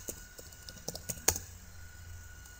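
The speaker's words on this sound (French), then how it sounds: "Donc je n'ai qu'à taper le mot de passe BitLocker" Fingers typing a BitLocker password on a computer keyboard, a quick run of soft close key clicks followed by one sharper keystroke, then quiet.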